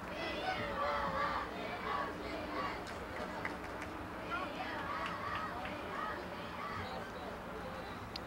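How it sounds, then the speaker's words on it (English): A crowd cheers and shouts at a high school soccer game, a busy mix of many distant voices with scattered yells and sharp calls, fairly faint throughout. "So the crowd goes wild for a soccer game."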